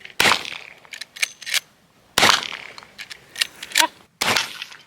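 Rifle shots fired at targets with a rifle cartridge on a homestead: three loud sharp cracks spaced about two seconds apart, each followed by fainter clinks and echoes, with no talk.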